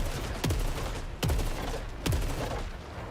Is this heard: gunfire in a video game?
yes